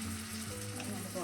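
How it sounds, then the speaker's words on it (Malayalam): Crushed ginger, garlic and green chillies fry in hot oil, giving a dense, continuous close sizzle with faint low hum beneath, with no talking. "എണ്ണ ചൂടാകുമ്പോൾ അതിലേക്ക് ഇഞ്ചി ചതച്ചത്, കുറച്ച് വെളുത്തുള്ളി ചതച്ചത്, 5 പച്ചമുളക്"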